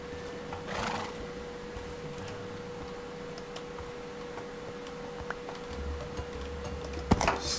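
A horse in the Minecraft video game neighs twice, a brief whinny near the start and another near the end, over a quiet steady background with faint clip-clop-like ticks.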